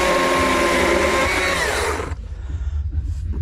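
A chainsaw carving wood roars loudly and steadily for about two seconds, then cuts off abruptly, leaving a low idling rumble.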